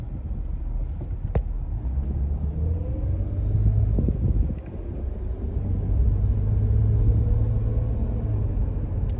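A car on the road with the driver filming while driving past clean petrol pumps, a steady low engine and road rumble with some wind buffeting, a brief swell near the middle, no talking.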